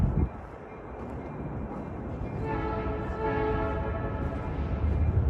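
A train rumbles past nearby with a continuous low roar and rising tonal wheel or horn-like whine, no talking.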